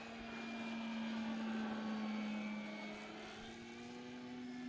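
An FMS Big Pitts V2 RC model biplane flies overhead at about half throttle, its electric motor giving a steady droning whine that swells and fades slightly as it passes, fairly faint and alone.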